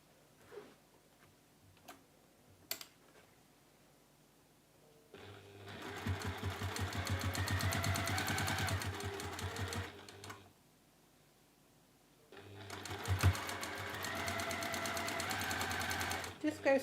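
A sewing machine stitches fabric strips onto a cushion through thick layers in two steady bursts of rapid, rattling ticks, with quiet pauses, small clicks and brief talk between them.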